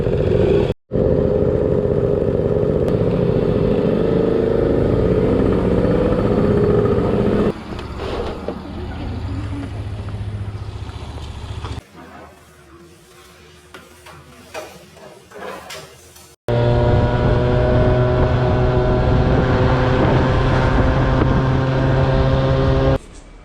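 A Yamaha Passol moped engine with a new exhaust runs loud and close, its pitch shifting as it revs and idles, with a quieter stretch midway before the droning returns.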